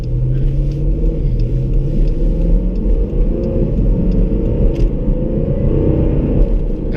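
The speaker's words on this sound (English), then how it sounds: "I know this car sounds kind of crazy" A car's engine rumbles and revs as it pulls out into the road, a loud, close, continuous drone with a rising pitch.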